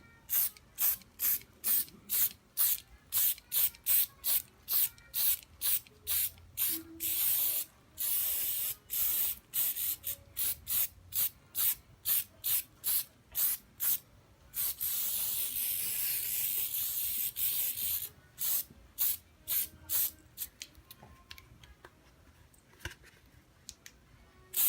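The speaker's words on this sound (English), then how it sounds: "So I'm going to start spraying my leaf size on there now." Leaf size glue sprays onto a deep sea diving helmet in a long sequence of short, rapid hissing bursts. A sustained spray runs several seconds in the middle, then quick pulses resume, close and steady.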